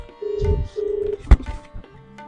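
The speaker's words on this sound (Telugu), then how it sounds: "రింగ్ అవుతుంది." A phone rings with two steady tones close by, followed by a soft thump and quiet background sounds.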